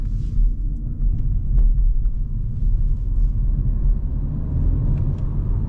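Renault Clio 2026 engine pulling hard in sport mode during a night drive, a steady loud low rumble with road noise from inside the cabin, continuous and without talk.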